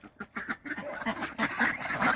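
Several ducks quacking on a small backyard farm, repeated nasal calls overlapping in a busy, fairly close chorus with no talking.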